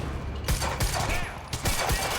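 Video game gunfire from Quantum Break crackles in several rapid, punchy bursts of shots at mid distance, with game voices talking in between.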